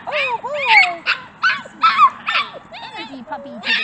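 A 53-day-old puppy yips and whimpers in a rapid run of high, wavering cries, close and fairly loud, mixed with a person's speech.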